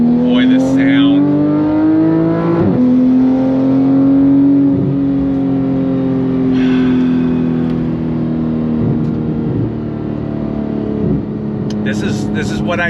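A 2015 Porsche 911 GT3 with aftermarket modifications holds a steady, loud, close engine drone with shifting pitch and brief rev changes, sustained throughout with a voice faintly underneath.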